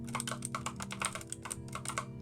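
An old, loud, clacky keyboard is typed on quickly, giving close, sharp, bright keystrokes in a busy irregular rhythm over soft background music.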